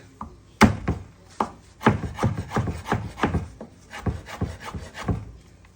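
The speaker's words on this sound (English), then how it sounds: "Smash the garlic." Garlic and pepper being smashed and chopped on a wooden cutting board for a spicy eggplant curry, a series of sharp close knocks and choppy thuds in irregular bursts, with no talking.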